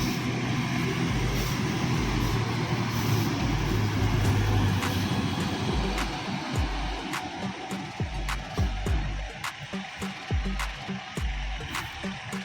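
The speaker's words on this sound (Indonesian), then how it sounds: "Disusul lagi oleh bus JRG." A JRG bus passes on the road, a loud low engine rumble building and fading over several seconds, followed by the lighter rush of other vehicles with intermittent clicks and knocks, and no talk.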